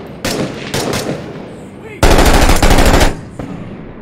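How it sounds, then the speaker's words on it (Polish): Machine-gun fire from a video game, heard as several loud, close bursts of rapid shots, the longest lasting about a second, with quieter single bursts around it and no talking. "O, strzelają."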